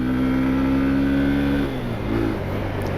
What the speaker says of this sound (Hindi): जो मैं बार बार गियर शिफ्ट कर रहा हूँ